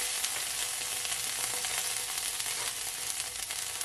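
Crushed garlic sizzles steadily in a pot over low heat, a dense, even crackle heard alone throughout.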